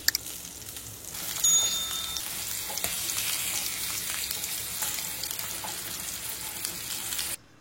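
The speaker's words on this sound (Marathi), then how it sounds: "मिरच्या कढईत ठेवल्या" Green chillies fry in a pan, sizzling in a steady hiss after a few clinks at the start, with light stirring sounds and the frying stopping abruptly near the end.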